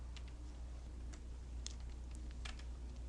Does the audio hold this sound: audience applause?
no